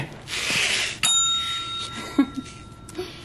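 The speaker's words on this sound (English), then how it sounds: "you want to ring the bell?" A small bell rings once with a bright, clear ding that lingers and fades slowly, followed by light handling noise and movement in a quiet room.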